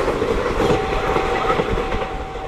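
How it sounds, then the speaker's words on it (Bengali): A train rumbles across a bridge, a loud continuous rolling roar with rhythmic clickety-clack of wheels, steady and close throughout as a sound effect. "ট্রেন ছুটছে ব্রিজের ওপর থেকে সূর্যপুর ছেড়ে ঝমঝম ঝমঝম"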